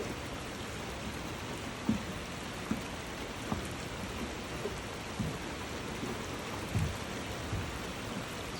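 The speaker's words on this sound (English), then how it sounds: "And we're just sitting here as the rain falls." Steady rain falls on a boat moored in a marina on a small bay on a rainy evening, a constant even patter filling the air with occasional slightly louder drips and soft low rumbles, no talking.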